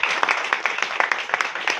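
Audience applause at a motivational talk, a dense, steady patter of many hands clapping that fills the whole stretch without a break, loud and close.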